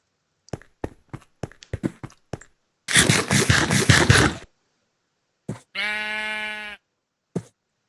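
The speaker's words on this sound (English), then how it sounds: "The sheep just can't get enough." Sheep bleating in a video game, a loud drawn-out bleat near the end, preceded by a run of sharp taps and a burst of noisy scratching.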